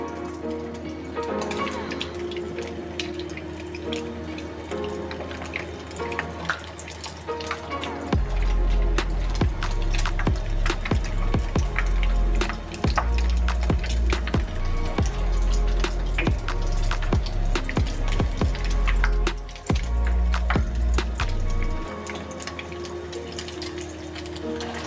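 Egg-dipped shami kababs sizzle in hot oil in a frying pan, a steady wet crackle and spatter that swells louder midway with denser popping before settling back to a softer fry.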